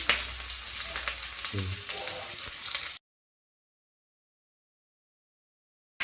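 Curry leaves sizzle and crackle in hot oil for tamarind rice, a steady close frying hiss with a brief low stir or bubble, then stopping abruptly halfway through.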